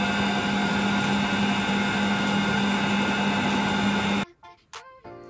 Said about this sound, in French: Je vais encore laisser le robot faire son travail.